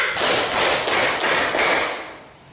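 Classroom of students clapping in unison in a counted five-clap pattern, several sharp, closely spaced group claps, loud and near, trailing off at the end.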